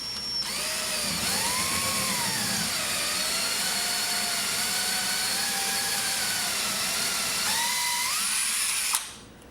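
A power drill bores a hole through a house wall between the studs, whining loudly and steadily for about eight seconds with pitch dips as it bites, then stops abruptly.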